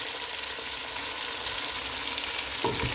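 Onions sizzle steadily in hot oil for a Punjabi-style mutton stew, a dense close frying hiss with a brief stirring scrape near the end.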